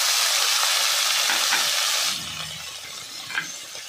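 Tomato goes into onions already browned in a pan for hotel-style cashew kurma, bringing a steady loud sizzle that drops noticeably partway through and is then stirred, with a brief scrape near the end.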